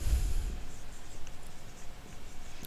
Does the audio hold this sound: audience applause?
no